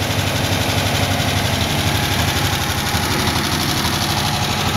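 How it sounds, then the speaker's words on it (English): A 1962 Ford Econoline engine idles steadily in a continuous, even rumble with no talk over it. "Idle's a little high at first, but it settles down after a little while."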